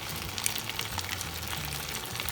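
Potatoes frying in a pan, a continuous soft crackle and sizzle with scattered small pops, steady and close, with a low hum running beneath and no talking.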